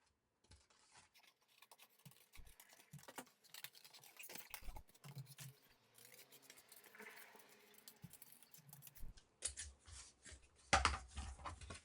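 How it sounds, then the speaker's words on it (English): Scissors snipping through paper to cut out the second leg of a homemade T-Rex shadow puppet, a quiet run of crisp rustling cuts and paper handling close by, without talk. "Go ahead and cut out that second leg."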